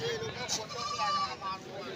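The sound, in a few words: Black Bengal goats bleating at a goat market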